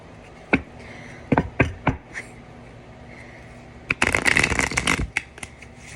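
A deck of tarot cards being shuffled: a few quick riffles and taps, then a dense, crackling burst of cards flicking together up close, ending with a couple of soft taps.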